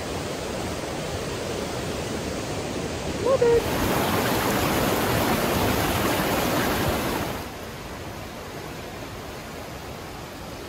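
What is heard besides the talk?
Blackstone River flowing fast at Blackstone Gorge after rain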